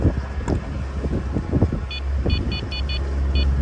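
Sailboat motor droning steadily at close range while motoring through a narrow channel between Samos and Turkey, with a low rumble, wind noise and a few faint high beeps.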